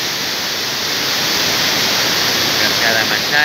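The Machay waterfall near Baños, Ecuador, dropping about 70 metres, roars as a loud, continuous broadband rush of falling water, steady and close, with no speech over it.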